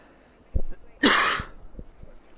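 A single harsh cough lands right up against the microphone, loud and close, set between a few soft thumps and quiet room noise.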